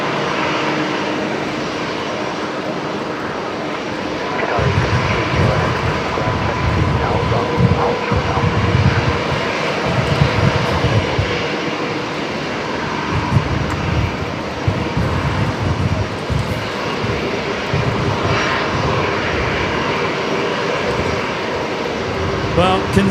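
At night, an Airbus A330 lands at Brisbane Airport in a 20-knot crosswind, its engine roar loud and sustained, swelling and rumbling throughout with people talking over it.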